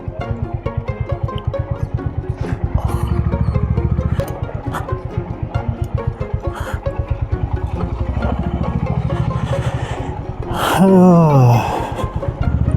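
A motorcycle engine rumbles steadily at close range as the bike is ridden across a bridge near a river on a mountain route toward Sonamarg, Ladakh, with a brief louder surge and rattle near the end.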